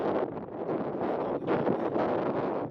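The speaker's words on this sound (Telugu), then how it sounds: "చాలా దారుణంగా వచ్చేస్తుంది ఈరోజు గాలి అనేది." Strong gusting wind in the Kuwait desert near a burning oil well fire, a loud rough roar buffeting the microphone in surges, no speech.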